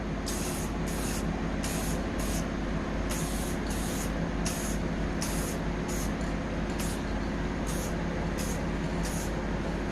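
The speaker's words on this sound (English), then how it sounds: "I always practice my spray away from it just to make sure it's spraying good" Short bursts of an aerosol spray paint can laying a light dusting coat, hissing in a steady rhythm, repeated about a dozen times over a constant background hiss.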